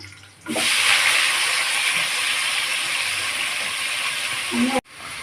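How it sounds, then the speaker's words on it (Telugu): Green chilies, onion, tomato, coriander and curry leaves sizzle steadily in a hot pan while Beerakaya (ridge gourd) curry cooks, a loud broadband hiss and crackle starting abruptly and holding for about four seconds before cutting off. "వేసేసుకుని అలాగే పచ్చిమిర్చి, ఉల్లిపాయ, టమాటో, కొత్తిమీర, కరివేపాకు మొత్తం అన్నీ ఒకసారి వేసేద్దాం"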